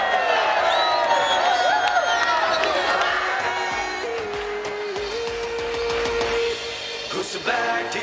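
A large crowd at a PTI political rally in Multan, cheering, whooping and clapping at a loud, sustained level, with an amplified voice and some music over it.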